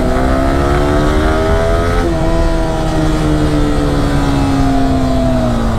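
A Yamaha R15 v3 motorcycle engine revs loudly and close, its pitch climbing and then falling in a sustained, steady roar with no voices over it.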